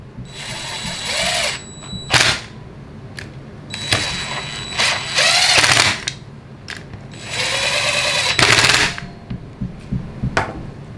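An impact driver tightens screws on a TRS pump during a rebuild, in repeated loud, close bursts of whirring and hammering with short pauses between them. Clicks and ratchety rattles are heard in the gaps.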